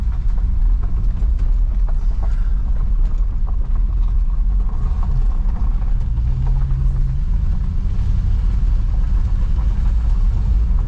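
An old car, wrecked and left sitting for 20 years, with its engine running: a loud, steady, close low rumble that continues unbroken throughout.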